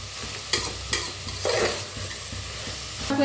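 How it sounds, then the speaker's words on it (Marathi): Sprouted moth bean masala rice stir-frying in a pan: a loud, continuous sizzle broken by a few distinct scraping stirs of a spoon through the rice, heard up close and without speech. "छान असं भाजून घ्या"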